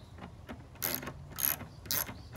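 A T25 Torx bit turning a windshield screw on a Can-Am Ryker motorcycle, heard as three or four quiet, close ratcheting clicks in short bursts, with no talk.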